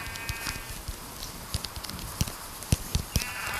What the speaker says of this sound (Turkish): Aa bir tane koyun var.